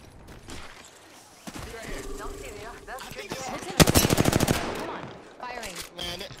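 Bursts of automatic gunfire crackle in a shooter video game, sparse at first, then a sharp rapid volley midway, with a player talking over it.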